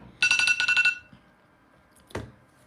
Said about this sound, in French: Trader, ta sonnerie est encore venue.